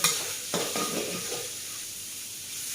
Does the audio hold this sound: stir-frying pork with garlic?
yes